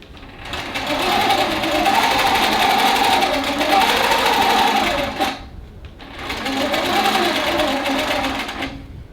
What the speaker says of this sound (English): I'm gonna stitch down the whole side because I need to base this edge down.